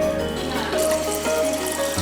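Tap water on San Cristóbal running steadily as it is collected into a sample container, a close, continuous pour with a hum underneath.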